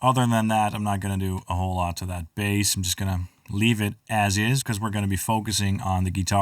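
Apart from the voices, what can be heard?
No distinct noise like a dog, phone or traffic.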